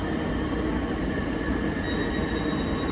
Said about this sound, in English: Incoming now is the 1600 South Eastern service from Hayes to